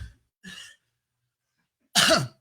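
Two coughs: a short, soft one near the start, then after a pause a louder, harsher cough up close.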